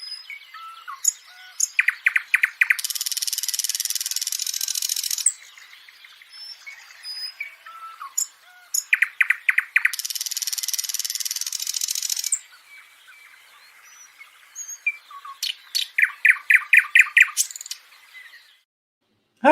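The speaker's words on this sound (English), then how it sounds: "And that was a nightingale." A nightingale sings alone in varied phrases of rapid repeated chirps and sustained bright buzzing trills, loud and close, with short pauses between bursts.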